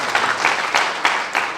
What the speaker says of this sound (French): Applaudissez-le, s'il vous plaît.